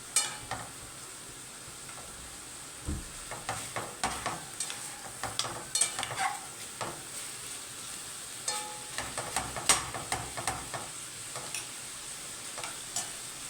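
Onions with salt fry and sizzle in a pan while a utensil stirs them, scraping in irregular strokes over a steady hiss, close and alone with no voices.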